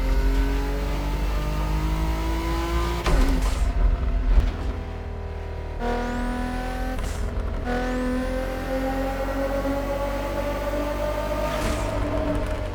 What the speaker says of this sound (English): It actually sounds so good in this game. The turbo sounds are so clean.